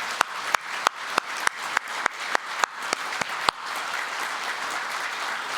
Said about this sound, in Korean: 우렁찬 박수 한번 같이 하시겠습니다